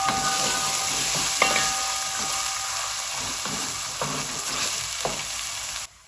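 Ginger garlic paste and green onion fry in a pan with a loud, continuous close sizzle and hiss, broken by a few faint stirring scrapes.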